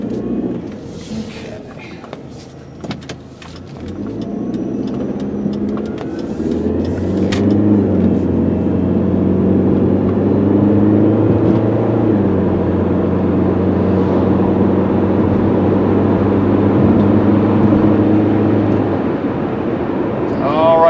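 A 2004 Chrysler PT Cruiser Limited with about 90,000 miles cruising a straight road at up to 55 mph: steady engine drone and tyre roar heard from inside the cabin, with a voice talking over it.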